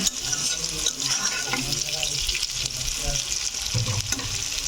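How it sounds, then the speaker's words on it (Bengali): Onions frying with a prepared spice paste in a pan give a steady, close sizzle with occasional stirring scrapes and a faint watery wash in the background. "এবার পেঁয়াজটা ভাজা ভাজা হয়ে গেলে তারপর ওই যে পেস্টটা করে রেখেছো, ওই পেস্টটা"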